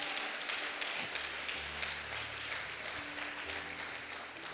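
A church congregation claps during a sermon, a dense wash of applause from many hands that stays steady and fairly far off for a few seconds, with a low hum underneath.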